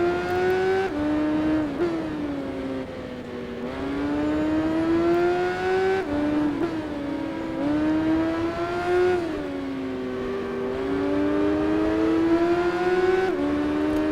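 A BMW K1200S motorcycle engine in the racing game Tourist Trophy holds a loud, steady high-revving whine, its pitch climbing through gears with brief drops at each shift, clear and close throughout.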